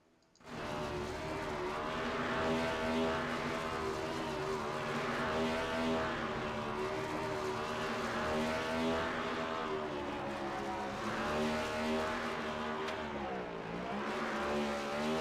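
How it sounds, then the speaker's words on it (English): A race car in the ANZCAR Cup holds a long, steady burnout after taking the win, engine roaring at high revs with tyre squeal, continuous and loud for about fifteen seconds. "He gets to enjoy it, has a great burnout."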